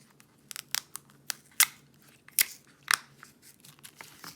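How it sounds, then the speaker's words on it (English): A sticker peeled off a plastic bag of diamond painting drills gives a series of short, crisp crinkling and tearing crackles, close and irregular over a quiet background. "and then removing the sticker"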